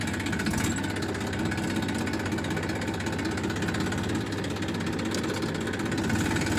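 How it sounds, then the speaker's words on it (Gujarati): A new-model tractor's engine idles steadily and close by, a continuous low, rumbling drone with a vibrating texture that stays even throughout, with no voices over it. "તો ટ્રેક્ટર ચાલુ કર્યું છે."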